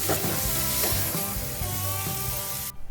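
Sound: stir-frying bitter gourd with eggs in a pan

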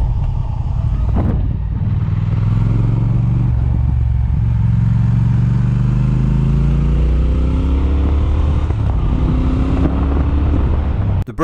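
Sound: Triumph Speed Twin motorcycle engine accelerating

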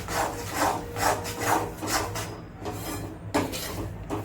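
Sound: roasting flour and ground sesame, stirred together in a pan

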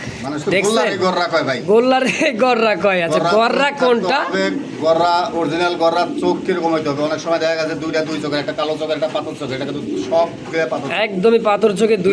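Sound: pigeons cooing

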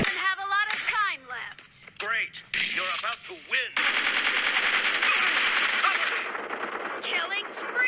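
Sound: gunfire from the video game BGMI

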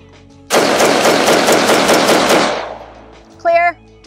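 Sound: LMT rifle firing

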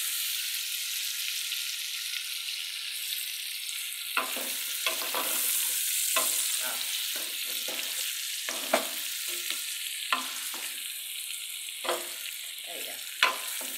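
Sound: sautéing ingredients in a pan for feijoada

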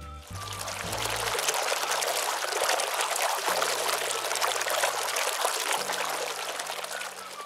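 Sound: water running into a bath

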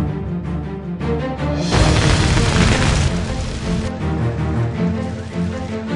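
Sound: gas pipe explosion in Fire Department 3 video game

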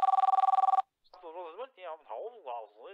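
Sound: telephone ringing in video game Ghost Control Inc

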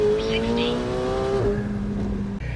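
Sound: McLaren 750S Spider launching and accelerating

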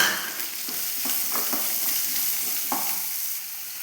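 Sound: chopped onions sautéing in oil

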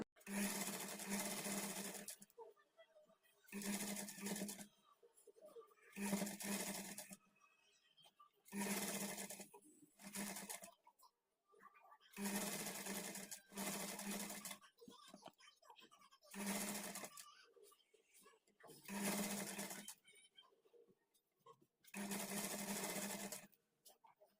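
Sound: sewing machine stitching blouse hemming patti

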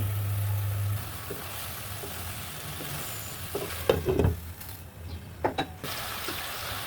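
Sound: stirring snakehead fish and cauliflower curry in pan

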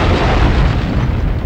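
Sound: explosion in the video game No One Lives Forever

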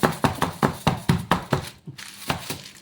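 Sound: cheesecake pan tapped on countertop to release air bubbles

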